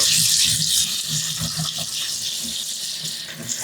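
Poha (flattened rice) sloshes and swirls in water as it is rinsed by hand in a bowl, a steady close watery splashing with soft low stirring, no talk.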